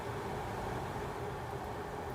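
2022 Tata Safari XZA Plus air-conditioning blower running at its maximum speed setting, a steady, even rushing hiss of airflow filling the cabin, with no talk.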